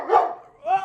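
An excited dog lets out two quick barks, close and loud with a short gap between them.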